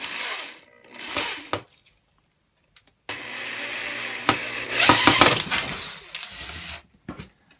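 A power drill drives screws into a part on a lighted Halloween haunted house decoration, giving short close whirring bursts with a silent gap and rattling clunks between them.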